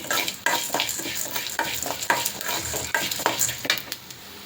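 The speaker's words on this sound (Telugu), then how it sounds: "ఇప్పుడు ఇందులో ఒక టూ స్పూన్స్ మనము ధనియాలు వేసుకుందాము అలాగే ఒక స్పూను జీలకర్ర వేసుకుందాం ఇవి కూడా మనకి కొంచెం ఏగాలి" Urad dal, chana dal, coriander seeds and cumin are dry-roasted in a pan for peanut chutney powder. The dry grains rattle and scrape in quick, repeated strokes as a spoon stirs them, with a faint sizzle underneath and no speech.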